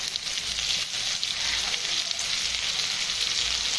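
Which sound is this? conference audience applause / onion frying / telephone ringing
onion frying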